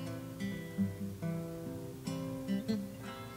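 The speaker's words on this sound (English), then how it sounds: "Finger picking sounds like this." Fingerpicked acoustic guitar plays a short passage of plucked, ringing notes over sustained bass tones, close and fairly quiet, with no voices.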